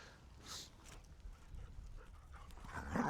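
Dogs play-wrestle near a winter garden, giving soft scuffling, faint panting and a few small whimpering sounds at moderate distance, with a louder burst of activity at the end.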